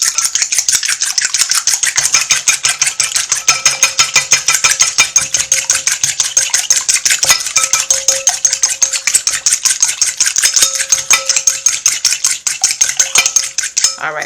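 Egg muffin batter with heavy cream is whisked rapidly in a bowl, a loud, fast, continuous metallic ticking that holds close and steady throughout without any talk.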